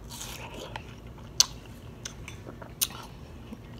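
Quiet close-up watermelon eating: soft wet bites and chewing with a few sharp crisp crunches standing out, sparse and intimate with no talking.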